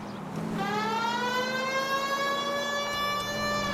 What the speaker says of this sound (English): And my sirens on.